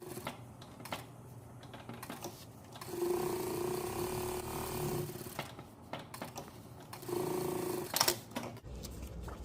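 A sewing machine runs in short bursts while stitching a shirt collar about half a centimetre from the interfaced side, its rapid mechanical chatter broken by clicks and pauses between seams.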